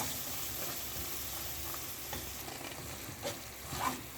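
Prawn masala sautéing in a pan for kam heong prawns, a steady soft sizzle throughout with a few brief stirring scrapes near the end, no voices.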